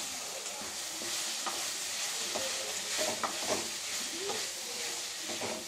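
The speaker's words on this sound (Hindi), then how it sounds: "2 मिनट हम इसे भी भून भून के ऐसे ही पकाएंगे" Boiled pasta stir-fried in a pan over a low flame, a steady soft sizzle running throughout with scraping and stirring clicks from a spatula close by.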